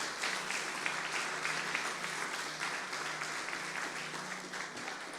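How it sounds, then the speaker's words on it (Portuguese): Congregation applauding during a church prayer service, a faint, distant, steady patter of many hands clapping that continues evenly throughout without talk. "Então aplauda ao Senhor e glorifique o seu nome."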